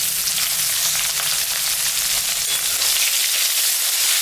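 Onion frying together with potatoes in oil, a steady, close, even sizzle throughout with faint stirring and no speech.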